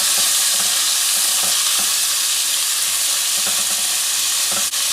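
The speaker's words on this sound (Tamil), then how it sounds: "இந்த ஆனியன் எல்லாமே சேர்த்துக்கலாம். இதில் சேர்த்து நல்லா வதக்கி விட்டுக்கலாம்." Onions sautéing in oil with spices in a pan, a loud, dense and continuous sizzle with regular scraping stir strokes, close and steady throughout, no voices.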